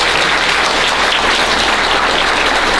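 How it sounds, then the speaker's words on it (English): Dense, steady applause from a luncheon audience at a fundraiser for an oral history documentary, loud and continuous throughout with no voices over it. "So let's go ahead and give them all a big round of applause here."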